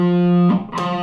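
Distorted electric guitar phrase from a guitar solo, a held note with heavy harmonics sliding into a short burst of picked notes, loud and close.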